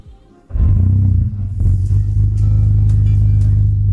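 A drift car engine cold-starts at -6 degrees with a sharp catch and then revs loudly, settling into a rough, throbbing idle close by.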